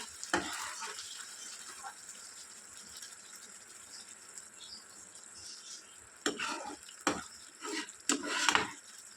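Spice masala is stirred in a pan for rajma curry, a soft low sizzle that stays quiet for several seconds and then gives way to a burst of clattering scrapes and taps near the end, with no voices.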